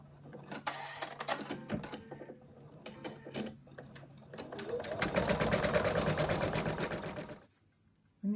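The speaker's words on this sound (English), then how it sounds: "The machine has now stitched the outline" An embroidery machine stitches the outline of a monkey design into fabric, a rapid mechanical chatter that starts in bursts and then runs steadily and louder before stopping, with faint talk underneath.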